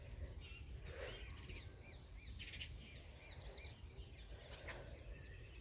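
Small birds chirp and tweet in quick, high bursts while feeding on scraps of bread outdoors, faint and somewhat distant over a steady low rumble of background noise.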